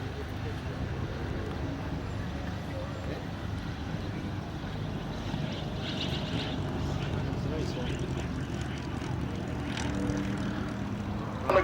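A vintage propeller aircraft comes in to land at the 2004 Chailey airshow, its engine a steady distant drone beneath continuous public-address commentary.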